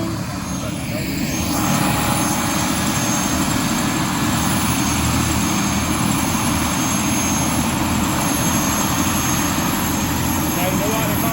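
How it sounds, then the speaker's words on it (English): A helicopter taking off, its engine and rotors making a loud, continuous, close roar that swells within the first two seconds and then holds steady throughout. "Now you about to learn why they call it helicopter chopper."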